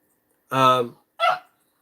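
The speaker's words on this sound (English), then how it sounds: "And that was my dog. She's just acting up right now." A pet dog gives two loud, close barks in quick succession. The first is longer and the second is short and clipped, with silence around them.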